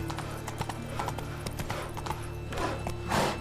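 Hooves of a horse in The Witcher 3 on PS4 clip-clop in a steady galloping rhythm at close range, with a brief snort near the end and a game music bed underneath.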